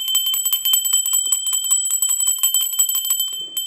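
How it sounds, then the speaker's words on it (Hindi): Rapid repeated strikes of a bronze bell ring close and loud in a ritual setting, a bright sustained metallic shimmer with a brief soft noise near the end. "सबसे पहले तो हम कांस्य की घंटी से एक वाइब्रेशन पैदा करेंगे"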